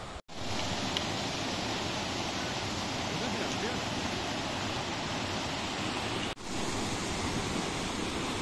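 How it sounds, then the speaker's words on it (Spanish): Steady rushing water in the Aragonese Pyrenees, a broad continuous hiss like a stream or small cascade, with two brief dropouts. "Mirad cómo suena el agua."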